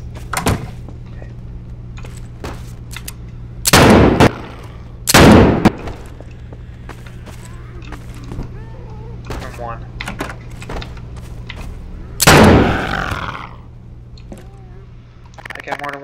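Gunfire from several guns in Garry's Mod during a zombie city apocalypse: a few loud, separate blasts spaced seconds apart, with a rolling tail after the last, over a constant low hum and occasional faint clicks.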